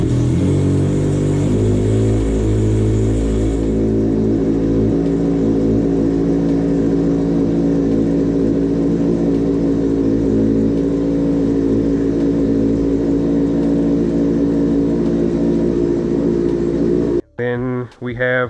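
A loud motorcycle engine with a straight pipe exhaust and no baffles roars and revs continuously with a harsh, unmuffled note, cutting off abruptly near the end.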